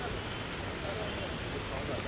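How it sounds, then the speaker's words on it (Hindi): Heavy rain falls outdoors at an event, a broad, steady roar with no breaks, close and fairly loud, with speech faintly mixed in. "बहुत बारिश गिर रहा है"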